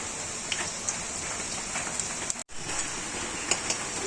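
Heavy rain pours down in a dense, steady hiss, with a brief dropout midway before the downpour resumes.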